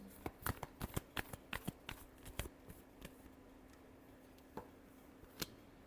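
A deck of tarot cards is shuffled up close, a quick flurry of crisp riffling snaps at first that thins into scattered, softer flicks, quiet overall.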